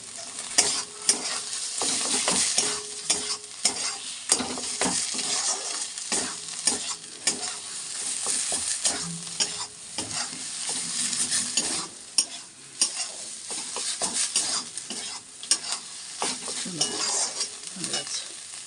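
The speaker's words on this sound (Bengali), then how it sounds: "চিনি দিয়ে আর কিছুক্ষণ নাড়াচাড়া করে তারপর নামিয়ে নেব" Cauliflower leaf paste with sugar stirred in a pan, a continuous scraping and sizzling with spoon knocks against the metal, steady and close, no voices over it.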